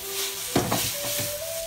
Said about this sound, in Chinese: 倒入粉条，大火翻炒10秒钟左右